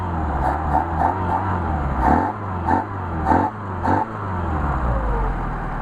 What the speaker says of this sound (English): Alright, let's see what we got in the way of acceleration.